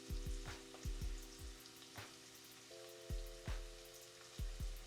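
Onions sizzle steadily in a pan for a vegan butternut bisque, a continuous crackling fry with soft repeated thumps of stirring, close and moderately quiet with no voices.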